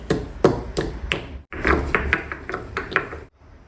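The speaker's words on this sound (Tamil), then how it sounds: "மிளகும் நசுக்கி எடுத்தாச்சு" Black pepper crushed by hand, a run of sharp rhythmic pounding taps, about a dozen close knocks with a short pause midway, ending in quiet.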